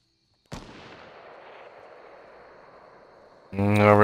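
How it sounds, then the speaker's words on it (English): A single sharp gunshot in Fortnite cracks out, then a long decaying echo tails off for about three seconds before a voice cuts in loudly at the end. "Shooting."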